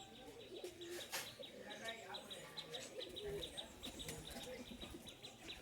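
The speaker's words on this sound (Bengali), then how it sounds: "আর এই হলো পায়রা লফট" Pigeons cooing inside a pigeon loft, repeated low coos and occasional chirps nearby at a quiet level, with a person talking throughout.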